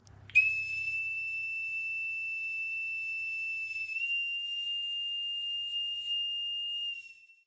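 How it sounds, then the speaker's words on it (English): A single long, shrill bosun's whistle tone held steadily for several seconds, piercing and clear, rising slightly partway through before cutting off. "he's still proficient with the bosun's whistle"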